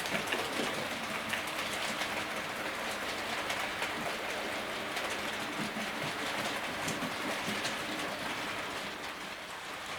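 A Hornby R3855 Queen Maude model steam locomotive runs slowly along its layout track, giving a steady faint rolling rattle and hiss close by throughout.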